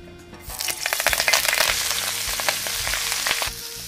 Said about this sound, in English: just stirring it around, getting everything coated with a little bit of oil